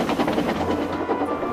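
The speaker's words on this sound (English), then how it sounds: "the train raced along with the heavy load." A heavily loaded freight train rumbles steadily past, with rhythmic clickety-clack of wheels and a low continuous roar, fairly close and loud.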